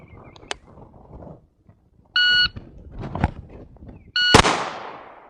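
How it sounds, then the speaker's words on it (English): A single sharp handgun shot fired after a slow draw, preceded by two electronic shot-timer beeps and some handling clicks, the crack close and loud with a short decaying echo. "Now let's say I take a really long time to draw out"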